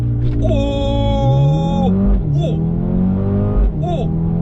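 A 2020 Mercedes-AMG A 35 engine revs hard in a launch-control start and accelerates through several gears, pitch climbing then dropping at each shift, loud and close.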